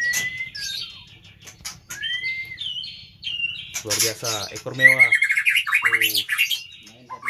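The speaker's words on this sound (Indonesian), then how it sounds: "Ini burung Paiker ini om." A Paiker bird sings at close range in sharp squawks, whistled chirps and rising trills, with someone talking over the second half.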